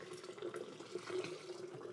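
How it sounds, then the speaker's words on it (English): Homemade wine made from store-bought grape juice being poured from a height to add air, a faint continuous trickling splash into a glass, quiet and close. "I am intentionally not just pouring it to be silly and fancy."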